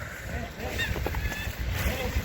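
Ducks paddle and play in partly frozen water during a Dutch snowstorm, giving repeated nasal honks and quacks over a continuous background wash.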